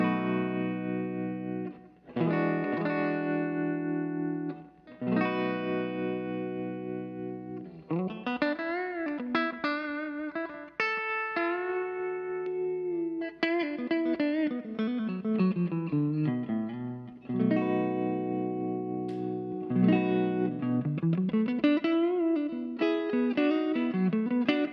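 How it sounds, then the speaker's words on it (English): An electric guitar plays through an Orange O-Tone 40 1x12 combo set warm with tremolo, sustained chords and melodic bends ringing steadily for the whole stretch, loud and alone with no talking. "So for this tone, it's set really warm and some tremolo."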